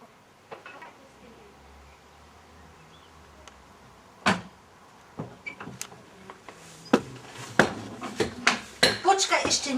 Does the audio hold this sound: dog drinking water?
no